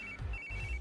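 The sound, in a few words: phone ringing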